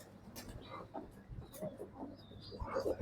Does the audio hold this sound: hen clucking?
yes